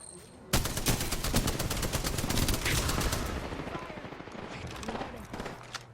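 Hip-fire gunshots in Apex Legends: a sudden burst of rapid automatic fire opens loudly and rattles on for several seconds, then fades into scattered shots.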